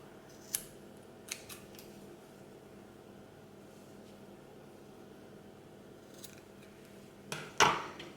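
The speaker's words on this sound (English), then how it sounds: "just cut them ends off" Scissors trim the ends off cooled hot glue on a crystal suncatcher, giving a few crisp, isolated snips in a quiet room, with the last cut the loudest and closest.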